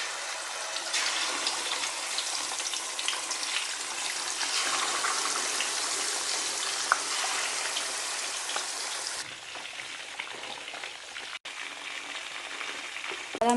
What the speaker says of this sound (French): je vais aller frire mon poisson. J'ai de l'huile très chaude.